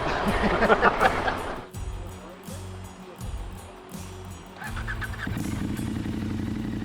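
A KTM 1190 motorcycle engine runs through a village, a steady low engine drone with bursts of revving, plus honking and mixed background noise in the first seconds.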